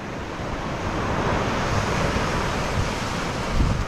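Surf and wind on a beach at Pensacola, Florida, a steady broadband wash of breaking waves with wind buffeting the microphone, loud and continuous.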